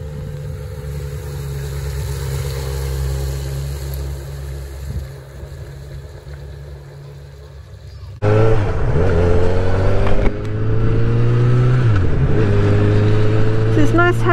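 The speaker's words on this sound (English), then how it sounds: "My ride on this Honda CB1000R." A 2022 Honda CB1000R Black Edition motorcycle rides along, a steady engine drone that turns louder and rises through the gears in the second half, with upshift dips and wind noise throughout.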